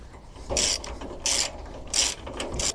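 A ring spanner tightens a bolt on the bracket of a compact galvanised single-axle trailer, making three or four short ratcheting bursts close by, separated by brief pauses.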